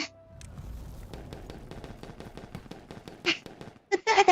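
Fireworks in the beaver colony-building game Timberborn, a rapid string of sharp crackling pops at an even rhythm, followed by a few louder bursts near the end.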